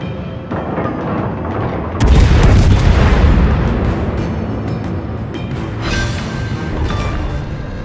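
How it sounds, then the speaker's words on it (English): Warship guns fire in the World of Warships naval combat game: a loud, deep boom bursts out at about two seconds and rolls into a long rumble, with fainter distant shots and a low drone after it. "Concentrate fire on the enemy warship."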